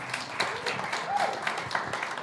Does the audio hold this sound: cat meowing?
no